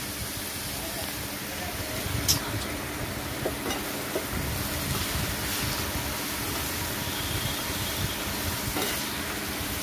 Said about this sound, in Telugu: కిందికి మీదికి బాగా కలుపుకోండి, బాగా ఫ్రై చేసుకోవాలి